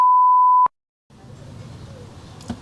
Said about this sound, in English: That's a beep.